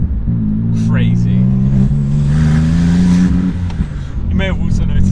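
A 900HP Porsche 911 Turbo rumbles steadily while driving, its engine note rising and holding loud and close under a voice, with brief whistle-like turbo sounds near the start and end.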